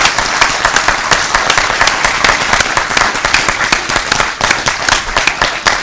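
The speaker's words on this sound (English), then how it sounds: "Round of applause." An indoor audience at a sci-fi convention in Wales claps in dense, sustained applause that stays loud and even for several seconds.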